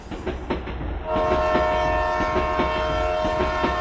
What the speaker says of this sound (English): A train crossing a bridge that's older than most countries' railway systems alone.